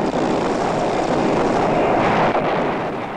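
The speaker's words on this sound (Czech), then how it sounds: "Nepřítel použil proti vzdušnému výsadku bojové vrtulníky." Combat helicopters used against an airborne landing, from a 1984 military exercise, make a loud, continuous rotor and engine roar with wind buffeting that fills the whole stretch before easing slightly at the end.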